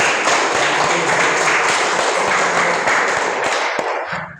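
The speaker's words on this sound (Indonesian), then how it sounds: "beri tepuk tangan" A class of students applauding together in a classroom, loud dense clapping that holds steady and fades out at the end.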